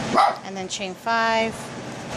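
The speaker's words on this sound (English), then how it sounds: "Sorry about the dogs." Small dogs bark and yip a few times nearby, sharp high yelps in quick succession with a longer bark near the middle, while someone talks over them.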